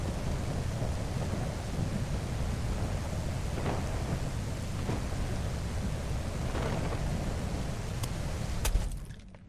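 Rain from a thunderstorm in the game Mist Survival pours in a constant, even wash, with faint thunder rumbling low in the background and a short crackle near the end.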